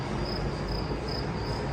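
Crickets chirping in a tree at an African roadside stop: a dense, steady high trill that pulses in regular bursts over a low background hum, with no voices.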